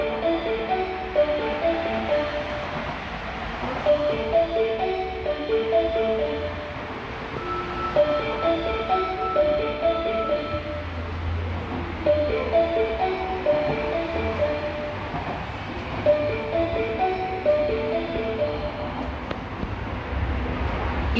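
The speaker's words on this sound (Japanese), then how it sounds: "一番線に中之津行きが到着します。" An Osaka Metro Midosuji Line train pulls into the platform at Higashimikuni station in cold weather. A low rumble and rolling rail noise build under a repeating melodic platform chime that sounds throughout.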